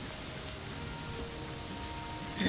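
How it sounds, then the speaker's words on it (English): Rain falls in the video game AFK Journey as a steady, even wash of hiss with small spattering ticks, alone and without voices, plus a soft knock near the end. "there's rain, so."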